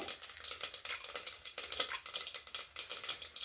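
Mustard seeds and chana dal hit hot oil for tomato rice tempering, giving a close, bright, crackling sizzle with rapid popping bursts and spitting pulses throughout, without voices.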